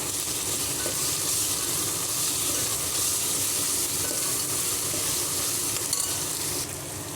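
Mint and coriander leaves sizzle steadily in hot oil for vegetable pulao, a dense, continuous frying hiss with scraping stir sounds throughout, close and loud with no voices.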